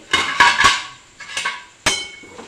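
Metal lid lifted off a cooking pan of methi bhaji with grated fresh coconut on top, giving several sharp, close metallic clanks and clinks in quick succession with a short ringing decay.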